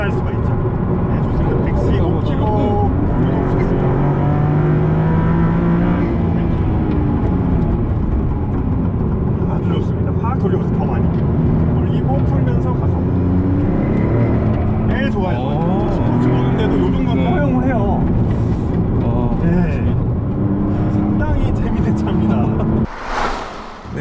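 A Maserati is driven hard around the Inje race track, its engine roaring loudly and continuously from close by as the revs climb and fall through the gears, ending in a brief burst of noise.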